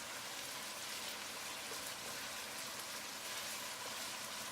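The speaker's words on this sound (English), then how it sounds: "Now it's time to add the venison into the pot and fry it together with the pork for another 5 minutes." Venison and pork frying together in a pot for a pasta dish, a steady, dense sizzle that holds at even strength with no pauses.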